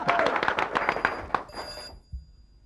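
A telephone bell rings in rapid bursts for about two seconds, then stops abruptly, followed by a soft thump.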